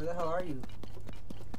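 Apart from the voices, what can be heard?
horse hooves approaching, from video game Zelda Tears of the Kingdom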